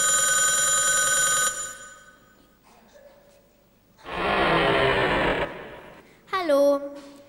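A telephone rings loudly in repeated electronic bursts, with quieter pauses between them, and a voice briefly answers near the end.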